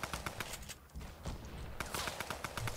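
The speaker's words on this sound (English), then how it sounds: "You just hear gunfire everywhere." Rapid bursts of gunfire crackle continuously in Fortnite, dense and layered, some shots near and sharp, others farther off, with no pauses.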